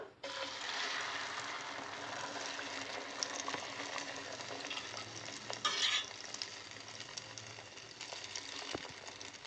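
Beaten egg poured into hot oil in a small kadai sizzles and fries steadily for several seconds, with a brief brighter crackle midway and light scraping sounds.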